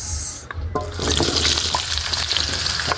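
Potatoes dropped into a frying pan of hot oil, a sudden loud sizzle that settles into a steady, crackling fry close by.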